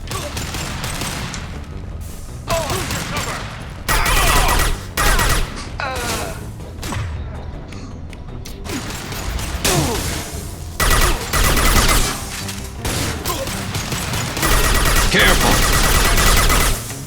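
A Mass Effect firefight rages with rapid bursts of automatic gunfire, repeated shots and intermittent thuds coming in waves. Shouted voices rise over the combat now and then.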